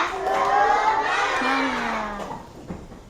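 Schoolchildren in a classroom shout together in a spirited group chant, a loud crowd of young voices that swells and then trails off, with no clear clapping rhythm standing out.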